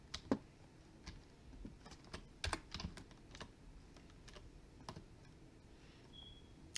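A computer mouse gives a handful of quick, faint clicks and keyboard-like taps in a quiet room, spaced irregularly, with no talking.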